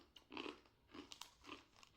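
Close, quiet crunching as a strawberry-flavoured Japanese snack is bitten and chewed, several crisp crunches in an uneven rhythm over two seconds.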